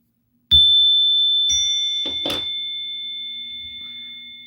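A single bright bell ding with a long sustained ring, struck near a political podcast, followed by a few faint knocks while the tone decays slowly over several seconds.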